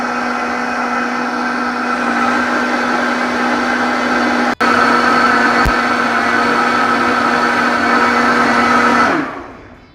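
A blender whirs steadily and loudly at constant speed for about nine seconds, blending a mixture until creamy, briefly jolting midway, then winds down and stops at the end.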